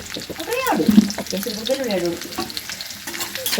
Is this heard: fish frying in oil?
yes